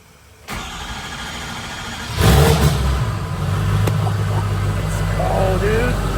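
A built diesel engine in a mud truck cranks and fires up, settling into a loud, rumbling idle close by, with people talking over it.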